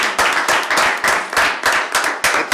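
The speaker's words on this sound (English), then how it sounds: "can we give each one of those individuals a round of applause?" An audience gives a round of applause at a service recognition ceremony, steady, loud, close clapping with many hands in a dense rhythmic patter and no voices over it.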